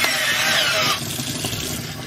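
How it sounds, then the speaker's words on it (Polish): A cordless drill whirs at high speed, then its pitch drops as it slows under load while scrubbing a steel thermos with a brush attachment, a close, steady motor hum throughout. "Wiertarka akumulatorowa."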